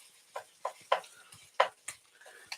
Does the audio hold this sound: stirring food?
yes